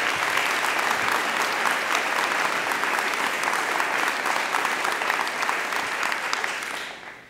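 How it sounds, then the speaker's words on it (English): Sustained applause from a town hall audience greeting Congresswoman Slotkin at an election reform event, steady dense clapping at full strength for about seven seconds before tapering off at the end. "let's hear it for Congresswoman Slotkin"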